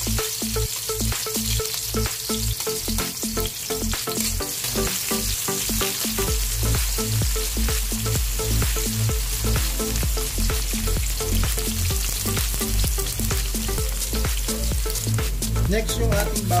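Onions sauté in a hot pan with a steady, close sizzle, broken by the repeated scrape and clack of stirring throughout.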